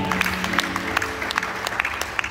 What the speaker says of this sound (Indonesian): Yang percaya tepuk tangan buat Tuhan